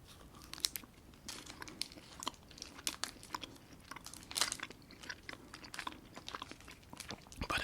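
Close, crunchy chewing and biting of a Milky Way-style candy bar filled with caramel and nougat, with steady irregular crunches and sticky mouth sounds and no talking.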